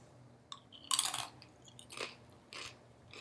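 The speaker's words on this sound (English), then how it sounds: "Those chips are crunchy." Organic blue corn tortilla chips are bitten and chewed up close, with a loud sharp crunch followed by several quieter crunching chews at irregular intervals against near silence.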